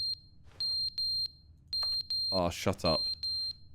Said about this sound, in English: I can't deal with this beeping.